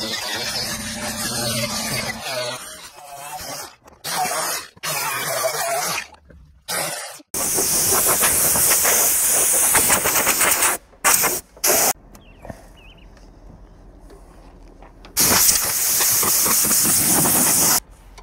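Rust treatment sprayed around a Jeep window in long, loud hissing bursts, stopping and starting with quiet gaps and brief scraping between them.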